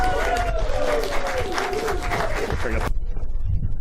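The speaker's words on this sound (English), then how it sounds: "Just give him a round of applause" An open mic comedy crowd at a small-town cinema claps and cheers as a comedian is introduced, with talk and whoops mixed in, before the applause cuts off abruptly near the end.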